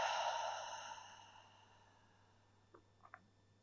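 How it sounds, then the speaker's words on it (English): A long, audible exhale through the lips at the end of a slow vinyasa yoga session, a breathy sigh that starts fairly strong and fades gradually, followed by a few faint clicks, close and quiet. "Take one more deep breath in. Exhale through the lips."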